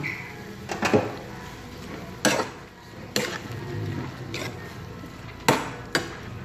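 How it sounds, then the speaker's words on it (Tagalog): Chicken feet and red onion being stirred in a pan, with intermittent scraping clanks and knocks of a utensil against the metal at an uneven pace and no talking. "Lagyan natin ng red onion. Haluin na natin mga kaboss."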